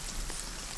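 Steady rain falls continuously outdoors, a dense, even hiss with no pauses.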